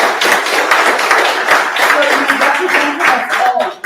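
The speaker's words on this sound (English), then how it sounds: "Can we give him a round of applause?" A live audience claps in a sustained round of applause at a ministerial session, dense and steady for several seconds, with faint voices mixed beneath the clapping.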